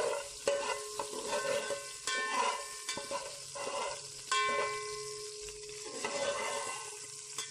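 Ingredients are stirred into olive oil in a pot for tomato potato rice, with repeated soft scraping and clinking of a spoon against the pot over a faint sizzle, fairly quiet and close.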